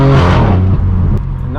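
Straight-piped BMW M4 F82 with a loud exhaust, revving briefly up close as a strong rumbling engine tone that dips and rises again.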